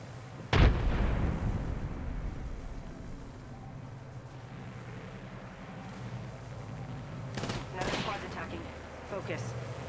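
A frag grenade goes off in a shooter game with a loud, sudden blast that fades into a rumbling tail, followed later by bursts of gunfire, with voices calling out over the action.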